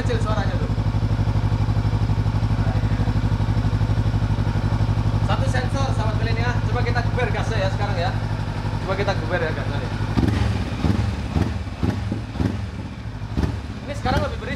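A tuned Honda CB500X motorcycle engine idles with a steady, throbbing low rumble, close and loud, turning rougher with clattering pulses toward the end while someone talks throughout.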